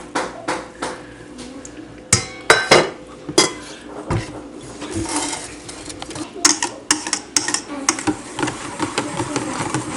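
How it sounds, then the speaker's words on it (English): Ingredients clatter into a bowl while making jaggery pudding (wattalapam) with nutmeg and egg mixture, with repeated sharp clinks of a utensil against the bowl and dull knocks in an irregular rhythm, close and moderately loud. "all of this goes in to the egg mixture."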